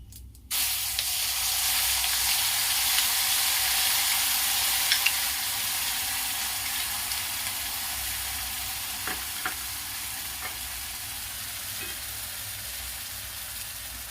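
Steady loud sizzling and frying hiss as spices hit frying mixed vegetables, starting abruptly and continuing throughout, with a few faint clinks of stirring near the end.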